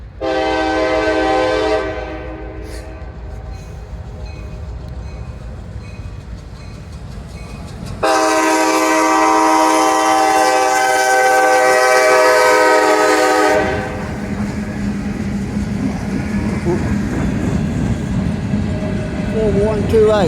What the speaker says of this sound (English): Train I've been waiting on is finally here.